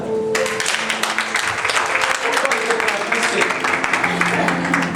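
Applause from an audience at a French-language gathering, a steady dense patter of clapping lasting several seconds, with a voice faintly audible at the start.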